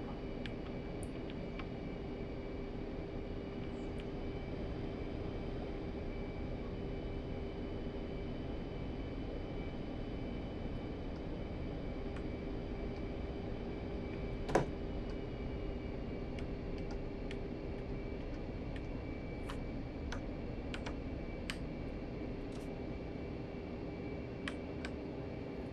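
An F-15 jet engine at takeoff in the DCS World flight game, a quiet, steady droning hum with a faint tonal whine, punctuated by sharp keyboard and mouse clicks close by.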